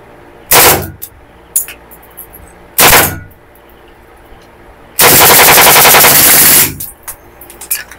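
A Beretta gas blowback airsoft pistol fires on full auto: two short sharp bursts a couple of seconds apart, then a longer, loud rattling burst of nearly two seconds, close by with quiet between.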